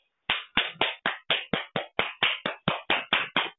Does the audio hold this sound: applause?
yes